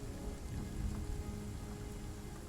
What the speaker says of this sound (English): The rain continuing to fall around them